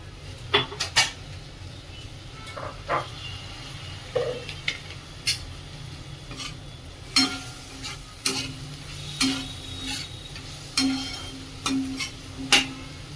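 Mushroom rice with capsicum, cumin powder, coriander powder and soy sauce being sautéed and stirred in a pan, with a soft sizzle under repeated scraping and tapping of a spoon against the pan at an irregular rhythm.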